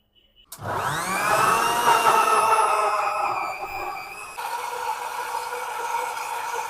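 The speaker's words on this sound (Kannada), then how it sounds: "ಕಟ್ ಮಾಡ್ಕೊಂಡಿರೋ ಪೀಸು ಇದನ್ನ ಗ್ರೈಂಡ್ ಮಾಡ್ಕೋಬೇಕು" Grinder motor pureeing cut muskmelon pieces in an ice cream parlour kitchen, starting abruptly with a loud whine that settles into a steady high drone and dips slightly in pitch partway through.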